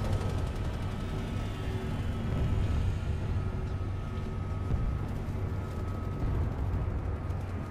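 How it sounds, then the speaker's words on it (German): Heavy tank driving in the game PlanetSide 2, a dense continuous low rumbling engine roar with gritty texture and distant combat thuds, steady and loud, without speech. "Jetzt fahre ich mal einen Panzer mit."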